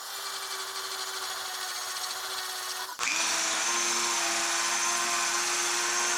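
Dremel aluminum oxide grinding stone grinding mild steel: a steady, high-pitched rotary whine with hissing abrasive grit, continuous and close, growing louder and harsher partway through as the stone bites harder into the metal.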